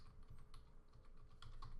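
Quick, light keystrokes on a computer keyboard, a short run of soft clicks close by with no voices.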